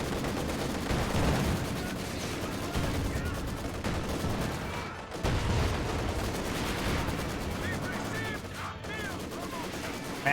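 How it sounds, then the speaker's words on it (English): Steady, dense mounted machine-gun fire rattles through a Company of Heroes 2 battle, with a coaxial gun joining against a Maxim position, continuous and loud throughout with a commentator talking over it. "The whole mounted machine gun and the coaxial will eventually get the kill on the Maxim."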